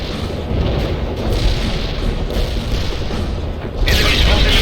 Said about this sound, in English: Incendiary bomb working as planned